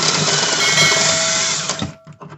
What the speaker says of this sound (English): we're gonna drill it out so that way we can.